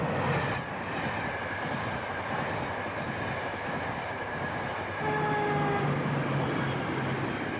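An express train runs along European rails with a steady, close rumble and faint clatter, and brief tonal horn-like whines rise midway.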